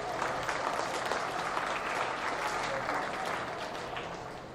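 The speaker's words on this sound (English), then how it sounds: "Let's give them a big round of applause" An audience at a beef cattle show applauds the intermediate showmanship competitors, steady crowd clapping holding throughout before easing slightly at the end.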